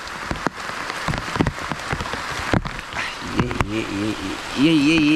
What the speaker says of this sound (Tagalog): Buti na umulan dito sa amin.